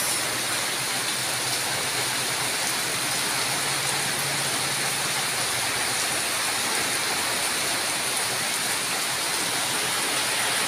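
Heavy rain pours down in a rural village, a dense, steady, loud hiss with no breaks and no wind.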